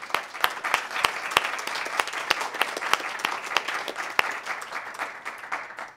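Applause at a lecture, a moderate crowd clapping with several sharp, distinct claps standing out from the patter, fairly close and lively before easing slightly.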